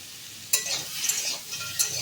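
Homemade bori lentil dumplings added to a frying pan and stirred, two distinct scraping strokes against the pan over a continuous bright sizzle, close and with no talk.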